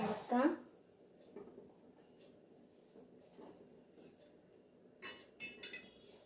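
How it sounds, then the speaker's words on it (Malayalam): A spoon clinks against a cooking pot with a bright clatter near the start, then softer scraping and stirring follow, with a couple of sharper clinks toward the end, all fairly quiet. "നമ്മൾ സ്പൂൺ കൊണ്ട് ഒന്ന് എടുക്കാം"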